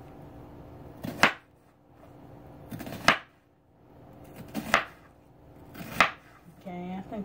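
A favorite kitchen knife chops food on a board, four sharp separate strikes about every one and a half seconds, close and fairly loud, then a brief rattle at the end.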